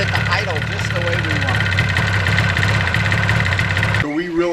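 A Yamaha RD400 motorcycle engine fitted with a changed exhaust idles close by in a steady mid-pitched putter, with someone talking over it until the engine note shifts abruptly near the end.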